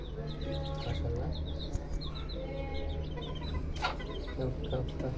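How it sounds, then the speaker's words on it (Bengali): Chickens cluck busily while being fed, steady close clucking with scattered chirps over a low background hum. "মুরগিগুলা"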